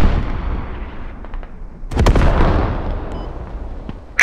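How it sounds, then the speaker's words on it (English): Hell cannon artillery fire in the military video game Squad: one heavy booming blast midway through, with rolling rumble and scattered distant pops around it. "Copy, I'm sending a hell cannon now."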